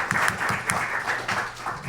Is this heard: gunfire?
no